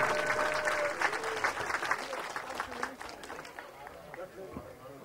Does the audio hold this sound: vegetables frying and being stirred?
no